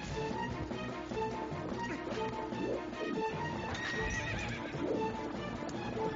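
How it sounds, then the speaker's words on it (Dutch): Horse hooves clip-clopping steadily in the video game Twilight Princess, along with neighs and whinnies over a dense, continuous game soundtrack. "Op een paard."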